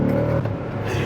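A Ford Mustang GT S197 engine, a loud droning rev that drops off abruptly during a rough gear shift inside the car, lasting about a second.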